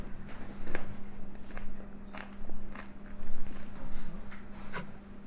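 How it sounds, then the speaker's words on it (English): Crunchy bites into fried teriyaki chicken wings and fries, close and crisp in repeated bursts about a second apart, over a steady low hum. "Just the right crunch on the fries and on the wings"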